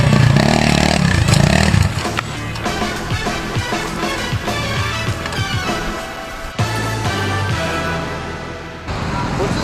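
An old motorcycle riding over slick, freshly rained-on ground, engine revving and rattling up close with clattering and scraping, loud at first and then settling to a steady rumble, with people talking over it.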